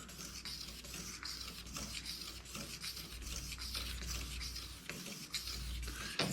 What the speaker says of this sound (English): I want to sand some of it because you don't want any scratches when you're done